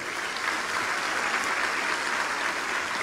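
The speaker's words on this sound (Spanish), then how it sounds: "Un aplauso a Cristo." A church congregation at a sermon applauds, dense sustained clapping from a large crowd that stays loud and even throughout.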